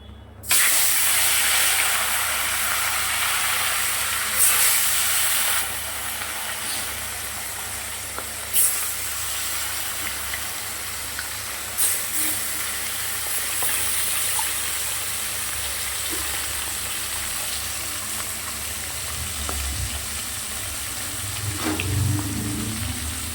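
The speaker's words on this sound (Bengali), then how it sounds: "ওদিকে কড়াই দেখো তেল গরমও হয়ে গেছে, মাছগুলোকে ছেড়ে দেবো।" Fish sizzles in hot oil in a wok (kadai), with a steady, loud frying hiss that runs unbroken for the whole stretch and has a few brief flares and crackles.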